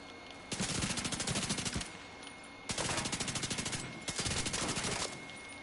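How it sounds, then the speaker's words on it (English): Automatic gunfire in a PS4 game comes in three long, loud bursts of rapid shots separated by short pauses. "The sign moves when I shoot it."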